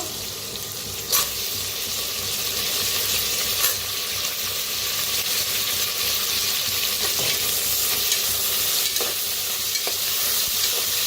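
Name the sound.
potatoes frying and being stirred with onion in pan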